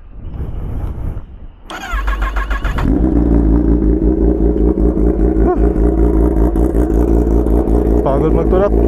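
A Kawasaki ZX-10R motorcycle cold starts: a brief starter whir and a catch, then the engine settles into a loud, rough, steady idle with a pulsing rumble, close by and continuous to the end.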